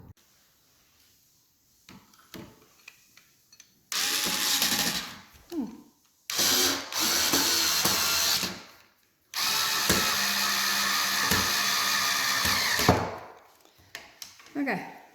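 A power drill drives screws into a laminate cutter table to fasten it securely. Three loud, close bursts of whirring are separated by pauses, each one ending as the screw seats, with quiet clicks in between.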